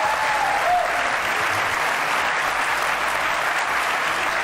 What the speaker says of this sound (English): That means you can clap.